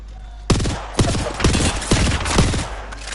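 Rapid video game gunfire crackles in several sharp bursts about half a second apart, loud and close over a steady background din, with no talk.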